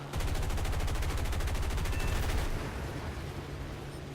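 Machine guns on a P-51A fire in a long, rapid burst in a flight combat video game, each round a distinct crackle in a loud, even rattle for about two and a half seconds. Steady engine drone continues alone after the guns stop.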